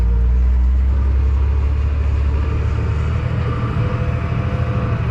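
Fendt tractor engine held at full throttle, a loud, deep, steady roar with heavy low rumble, close and continuous throughout, with no voices over it.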